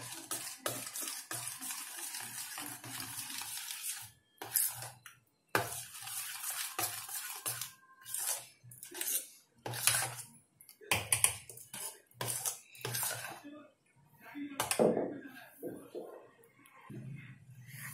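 A spoon stirs tender coconut rabdi in a pan, making soft irregular scraping and clinks of utensil against cookware, close and fairly quiet, with brief pauses between strokes.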